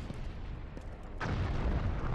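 Grenades exploding in the video game Resistance: Fall of Man, a loud booming burst that swells abruptly partway through and rumbles on over steady low game noise, with no talk.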